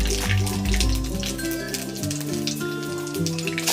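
Panch phoron spices crackle and sizzle in hot oil in a Bengali home kitchen as a bottle gourd and dried shrimp curry begins. The bright, hissy frying is partly masked by louder background music.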